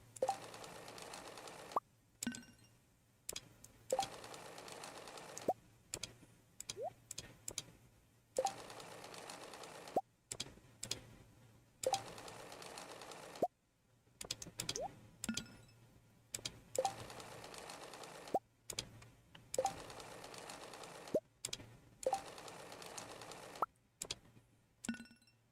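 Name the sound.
sewing machine sewing clothing in a farming video game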